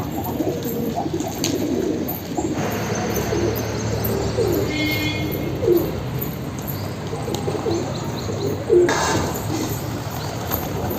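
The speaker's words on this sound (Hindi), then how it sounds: "पर दूसरे कबूतर आके परेशान कर रहे हैं" Pigeons cooing on a rooftop, soft low repeated coos with a few chirps and a brief wing flutter, close and fairly clear over a light outdoor background hiss.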